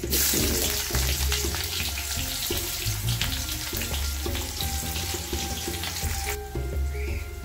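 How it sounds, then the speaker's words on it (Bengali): Onions frying in hot oil with whole cumin in a wok, a loud, steady hissing sizzle close by with crackles and clinks of a utensil throughout, no talking. "কড়াইয়ের মধ্যে তেল দিয়েছি আস্ত জিরে, এখন দিচ্ছি পেঁয়াজ"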